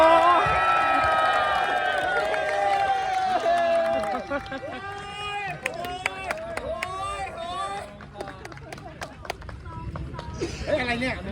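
A crowd cheers and whoops loudly at a football awards ceremony, with many overlapping excited voices and shouts that swell, then break into scattered chatter.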